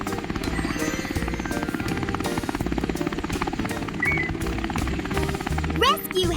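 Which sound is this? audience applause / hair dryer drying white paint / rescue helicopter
rescue helicopter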